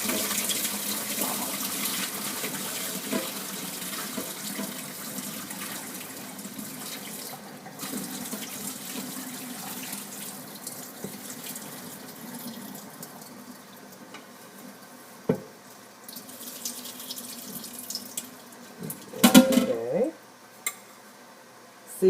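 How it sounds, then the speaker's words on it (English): Alum water drains off pickles in a 3-gallon crock through a colander, a continuous trickling pour that ends in a louder splashing gush near the end, with occasional clinks. "I'll go ahead and drain the alum water off"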